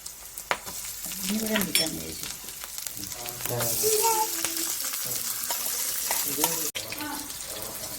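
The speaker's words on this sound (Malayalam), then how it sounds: "അപ്പൊ ഈ സമയത്ത് നമുക്ക് നല്ല സവാള ഇട്ട് കൊടുക്കാം" Onions hitting hot oil in a pan for white chickpea curry, crackling and sizzling steadily with scraping stirs and soft clinks, with speech-like sounds faintly over it.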